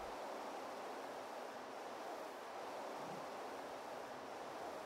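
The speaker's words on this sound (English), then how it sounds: "this is a cool waterfall" A waterfall in the video game Ark gives off a steady, broad rushing roar of falling water, constant and fairly loud throughout with no voices.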